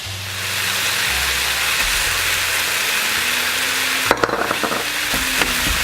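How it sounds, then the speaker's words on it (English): Brown rice, chicken and vegetables fry in a pan with a continuous loud sizzle, joined by a low background hum and a few sharp scraping knocks from stirring near the end. "So I'll probably let that sizzle for maybe 1 minute"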